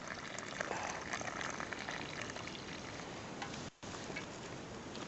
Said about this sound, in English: And then I'll just pour the water from here into my coffee pack.